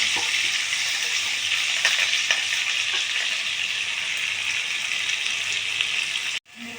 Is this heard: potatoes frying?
yes